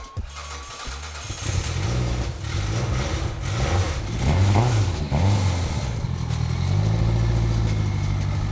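A car engine fitted with a Tilton twin plate clutch and lightweight flywheel cranks over, catches and revs in repeated rising and falling bursts, loud and close in an indoor space.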